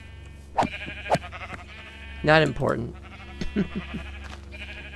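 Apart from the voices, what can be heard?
sheep bleating in a video game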